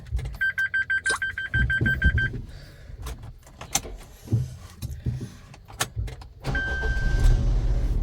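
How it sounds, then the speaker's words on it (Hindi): A car engine starts after a quick series of ignition clicks and a warning chime, catches with a loud crank and settles into a close, steady idle, with another chime near the end. "सबसे पहले हम लोग गाड़ी स्टार्ट करेंगे।"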